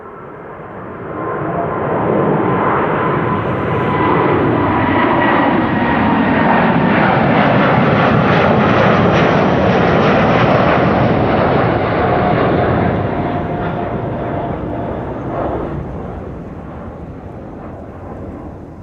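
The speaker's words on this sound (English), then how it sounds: "Next up, Delta Airlines flight 49 to New York, JFK, and there it is already. It's already rotating." A Delta Airlines Airbus A330neo jet takes off at Amsterdam Schiphol Airport, its engine roar swelling into a loud, sustained broadband rush that holds for many seconds and then slowly fades as it climbs away.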